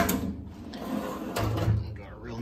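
A deep, full-extension drawer on a Husky 72-inch heavy duty mobile workbench slides open or shut with a short rolling rumble and thud, close by, while a person talks.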